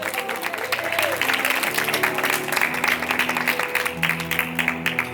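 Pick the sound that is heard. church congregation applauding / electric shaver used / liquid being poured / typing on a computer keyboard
church congregation applauding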